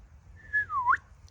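A single person whistles one clear sliding note that dips and then flicks up at the end, short and alone against a quiet background.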